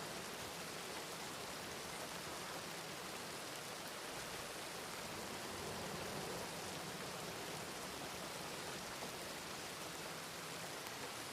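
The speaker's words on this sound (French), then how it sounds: "Du soleil et de la pluie." Steady rain in the Blackwater area of a video game, a dense unbroken hiss of falling drops that stays even and fairly loud throughout, with no voices.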